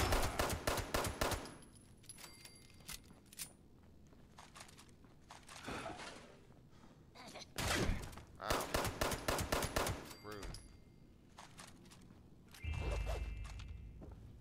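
Video game gunfire in Fallout 76, bursts of rapid automatic shots coming in several loud clusters with whooshes and footsteps between them, with no talking.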